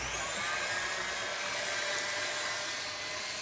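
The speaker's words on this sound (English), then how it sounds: "This will stabilise the meringue a little bit, and then whisk this up." Steady, loud broadband whir of an electric mixer whisking egg whites with cream of tartar into meringue, running continuously without change and with no voices.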